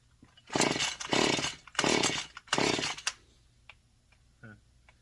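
A modified Husqvarna 435 chainsaw with a carburetor problem is started by hand and fires in four loud, rough bursts that each die out quickly, followed by a few faint clicks and handling sounds.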